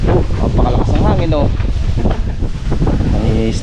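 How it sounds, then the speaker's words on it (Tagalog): Strong wind batters the microphone at an outdoor construction site in San Pablo, Laguna, where a firewall is being waterproofed. The rumbling gusts are loud and continuous, and voices talk over them. "Napakalakas ang hangin"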